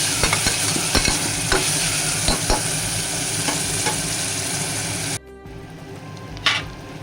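Onions sautéing in a pan for Guntur gongura mutton, a steady close frying sizzle with repeated sharp scraping stirs, cutting off abruptly near the end to a quieter hiss and one brief clatter.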